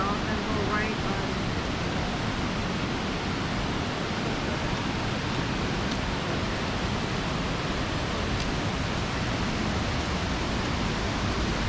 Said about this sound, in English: And we see our first waterfall up there.